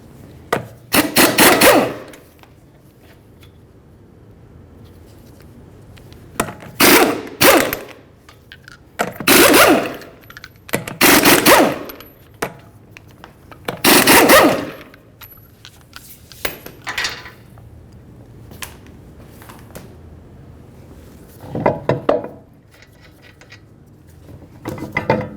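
Five 22mm lug nuts are removed from a raised rear wheel of a 2013-2015 Chevrolet Malibu, heard as a series of loud, separate bursts of rasping ratchet or impact-tool spinning with quiet gaps between each nut, close by.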